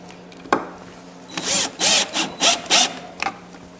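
A 12-volt driver runs screws into the wood of a shop dolly, giving several short, close whirring bursts in quick succession after a single knock, with no talking.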